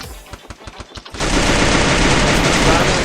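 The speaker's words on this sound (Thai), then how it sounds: "มันยิงกัน" Gunfire in the Free Fire battle royale game: a string of sharp single shots in quick succession, then a sustained, loud burst of rapid automatic fire that fills the rest of the moment.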